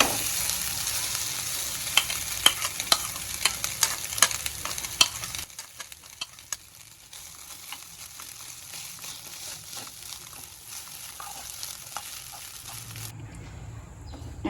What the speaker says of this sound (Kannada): ಇವಾಗ ಅನ್ನ ಕಲಿಸ್ಕೊತೀನಿ ನಾನು.